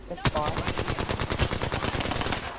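Rapid video-game gunfire crackles in a dense, fast rhythm of repeated shots, steady and fairly loud for the whole stretch, with a faint voice in the background.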